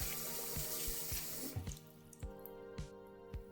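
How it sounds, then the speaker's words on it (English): A kitchen or bathroom tap runs steadily into a sink, filling it with lukewarm water; a close, continuous splashing stream with a few sharp clinks and drips along the way. "So I'm going to fill the sink all the way up."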